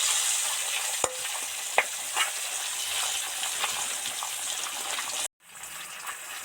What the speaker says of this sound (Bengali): মাছগুলো ডিপ ফ্রাই করে ভাজা হয়ে গেছে